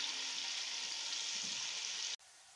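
Chopped garlic, ginger and onion frying in a pan for a mixed vegetable dish, a steady close hiss of hot oil that cuts off abruptly near the end.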